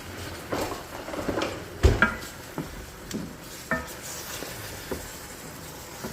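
A utensil scrapes and taps against a pan while gravy of bone broth and flour is stirred, giving irregular clinks and knocks over a soft, steady background sizzle. It is fairly quiet and close, with no talking.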